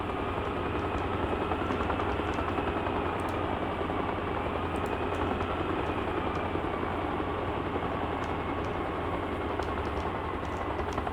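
A helicopter in the military video game Arma Reforger hovers down onto a helipad, its engine and rotor making a loud, steady, unbroken drone throughout, with no voices.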